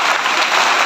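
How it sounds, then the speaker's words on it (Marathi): Audience applause at a school yoga guidance event, a dense steady wash of clapping filling the whole short moment without pause. "पुन्हा एकदा जोरदार टाळ्या वाजवून त्यांचा"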